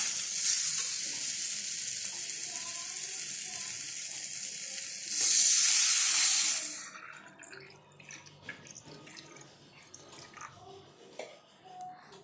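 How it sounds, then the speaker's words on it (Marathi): A potful of water hits a hot Maharashtrian tempering of oil, turmeric, chutney and salt, giving a loud hiss that swells and then fades into soft bubbling and stirring. "आता यामध्ये एक तांब्या पाणी टाका"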